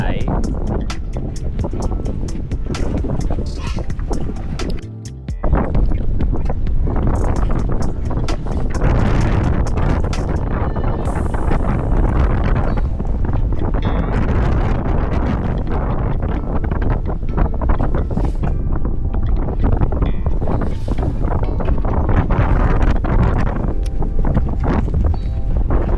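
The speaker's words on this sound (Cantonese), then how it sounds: "呢條風好危險喎" Strong wind roars and buffets the microphone aboard a small fishing boat at sea near outlying islands. The loud gusting continues almost without a break, with voices talking over it.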